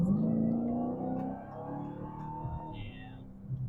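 A 2023 Dodge Challenger Hellcat Redeye Jailbreak V8 accelerates hard in a short, fairly quiet burst of rising engine tone with one gear change, heard close from inside the car.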